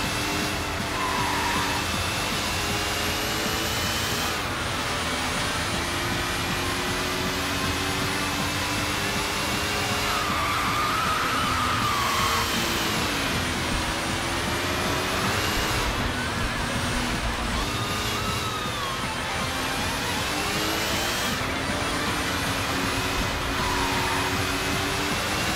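A racing car engine in the Sega GT 2002 video game roars continuously, its pitch sweeping up and down through gear changes over a loud, dense wash of game noise.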